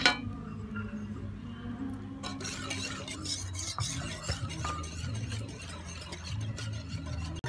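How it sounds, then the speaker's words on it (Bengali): Powdered milk is added a little at a time to heated water and mixed, with a spoon stirring and lightly clinking against the vessel in a quiet, continuous swirl. "অল্প অল্প করে দেব আর এইভাবে মিশিয়ে নেব"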